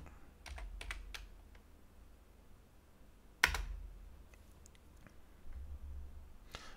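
Computer keyboard keys tapped in short bursts as terminal commands are typed, quiet close clicks with one sharper louder keystroke midway, no voices.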